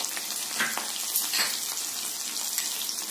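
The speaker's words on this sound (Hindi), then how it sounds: "मुझे करी पत्ता पकई देछि, ता सहित कंचा लंका मध्य" Curry leaves and green chili frying in a pan for sambar, a steady close sizzle and crackle with small pops and faint stirring scrapes, no talking.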